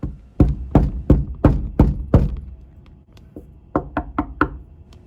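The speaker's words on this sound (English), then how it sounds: "Some door knocking for comparison to the punches." Solid door knocks struck with a flat leather sap: six heavy, evenly spaced thuds, a pause, then four quicker, lighter knocks, close and distinct.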